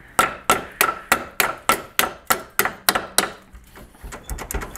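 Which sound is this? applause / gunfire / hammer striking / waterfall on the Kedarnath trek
hammer striking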